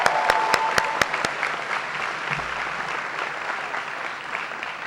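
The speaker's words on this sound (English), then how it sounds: "Let's give them a round of applause." Applause at a high school graduation ceremony fills the clip as a large audience claps in a steady, broad wash, with a few sharp nearby claps standing out at the start and no speech over it.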